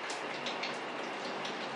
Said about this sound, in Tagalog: pasensya na guys kung naririnig yung pagpatak, yung pagbukso ng ulan ngayon